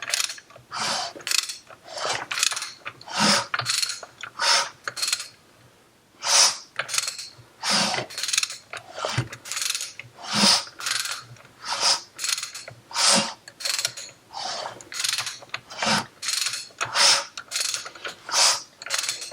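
Engine assembly turned over by hand during final assembly, with a rhythmic series of ratcheting, whooshing mechanical strokes repeating close up, one pass after another with brief pauses between them.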